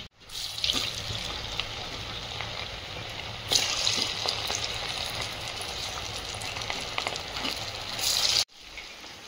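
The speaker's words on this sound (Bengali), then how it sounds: "প্রথমে তিনটে দিয়ে ভেজে তুলে দেখে নিচ্ছি কেমন হয়েছে" Pangas and tengra fish muitha dumplings deep-frying in hot oil, a steady dense sizzle that holds throughout with occasional crackles and a brief break near the end.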